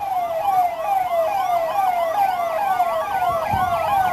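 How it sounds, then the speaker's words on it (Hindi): Fire brigade engine siren wailing loudly and continuously in repeated rising-falling sweeps as the fire engine arrives, steady throughout with no talk. "और 10 मिनट में फायर ब्रिगेड यहां पहुंच गई है।"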